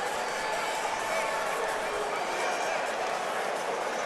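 Sold-out crowd of about 8,700 at the Palestra for a Philadelphia Catholic League boys high school basketball game, a continuous wash of distant crowd roar filling the arena, steady throughout.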